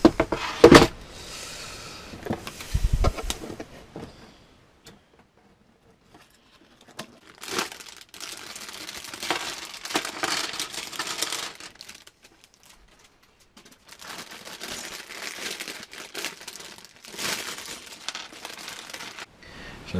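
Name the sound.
knife cutting open a cardboard box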